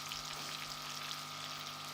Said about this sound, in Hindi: बस 5 मिनट के लिए मज़ीद इसको फ्राई करेंगे